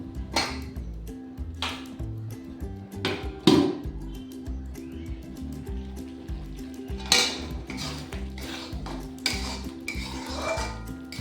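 Metal cookware clatters as a lid goes onto a pan of yogurt okra gravy simmering on a gas stove turned very low; one loud clank stands out among scattered lighter clinks and scrapes, with no voices.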